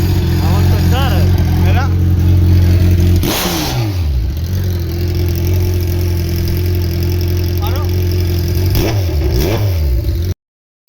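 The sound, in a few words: Kawasaki Z900 motorcycle engine revving without exhaust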